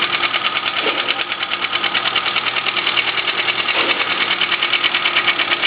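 A 1994 Suzuki Swift 1.3L engine idles with one spark plug wire pulled, giving a steady, close, rapid clattering rhythm with a slight uneven pulse and no voices.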